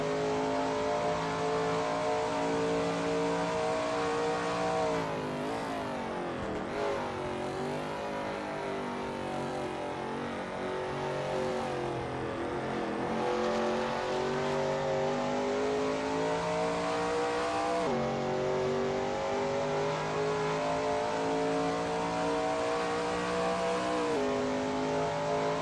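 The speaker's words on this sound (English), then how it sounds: "There's not much better than sitting near here and watching the cars speed by." Shelby Mustang GT350R race cars run at Sebring in a racing game. A loud, continuous engine roar holds for a long stretch, climbing in pitch and dropping back at several gear shifts, with no voices.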